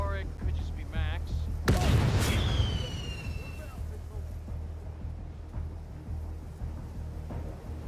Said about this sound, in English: That's the fireworks set off